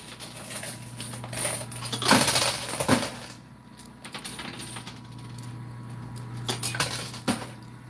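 Coins clattering and dropping inside a coin pusher machine, a steady metallic jingle with several louder cascades of falling coins, close up, over the machine's constant electronic hum.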